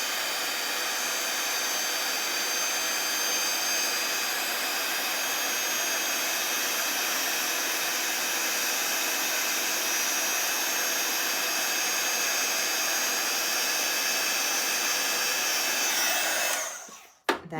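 Heat gun melting embossing powder on a card, blowing with a steady, loud hairdryer-like whoosh and whine that runs continuously, then clicks off near the end.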